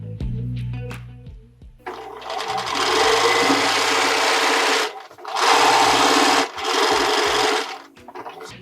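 A sewing machine stitches together quilt squares in loud, sustained runs of rapid whirring, close by, stopping briefly between passes and ending with a few small clicks and handling noises.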